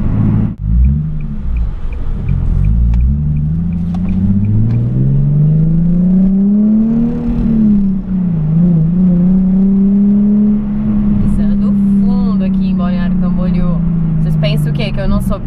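A Nissan 370Z Nismo sweeps past on the street, its engine rising to a strong revving whir around mid-pass and then holding a steady rumble; someone talks over the car toward the end.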